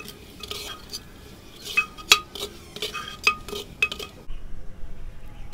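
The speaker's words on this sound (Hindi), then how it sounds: "हम इसको अच्छे से मिक्स कर देंगे और इसको अब थोड़ी देर तक दोस्तों भूनते रहना है।" Handi chicken stirred in a pot, with a run of metallic spoon scrapes and clinks against the pot over a faint background, loud clanks near the middle, then quieter steady noise at the end.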